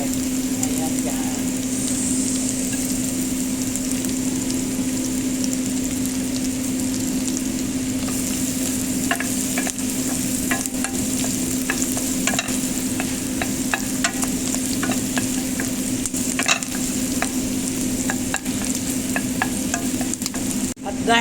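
Garlic sizzles in melted butter in a pan, a steady frying crackle with scattered stirring scrapes and clinks toward the end, under a constant low hum.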